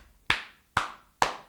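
Three sharp, evenly spaced hand claps ring out close and alone, each a crisp single smack with a short decay.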